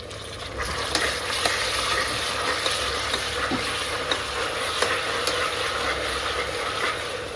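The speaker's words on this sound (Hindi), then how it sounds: "अब करेंगे अदरक लहसुन की भी भुनाई।" Ginger garlic paste sizzles steadily in a hot pan, with occasional light scrapes and taps from stirring.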